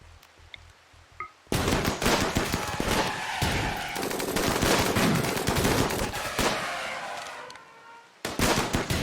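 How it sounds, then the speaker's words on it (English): Rapid bursts of automatic gunfire at zombies in the colony game RimWorld, loud sustained volleys after a quiet opening of sparse clicks, breaking briefly before resuming. "I'm shooting parts of them, but I don't want to get close"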